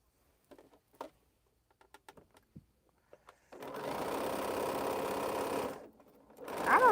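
A sewing machine stitches a quilt block in a home sewing room, starting after a few soft handling taps with a steady two-second whirring run, then a short pause and another burst.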